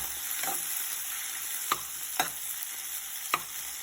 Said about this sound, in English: So we have to cook until the tomato is nicely cooked.